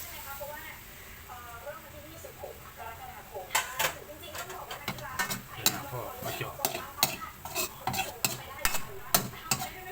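Mussels being stir-fried in a pan with oil and oyster sauce, a utensil scraping and clanking against the metal in quick irregular strikes over a steady sizzle, growing busier partway through, with voices talking nearby.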